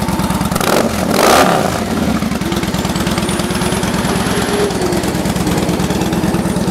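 A Victory 8 Ball Hammer motorcycle engine with a loud, throaty aftermarket exhaust revs briefly, then settles into a steady, rumbling idle close by.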